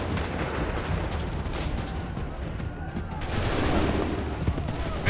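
Musket volleys from the Battle of Bunker Hill in Assassin's Creed III, as a dense continuous roar of crackling shots and rumbling blasts, some near and some distant, with shouted commands faintly mixed in.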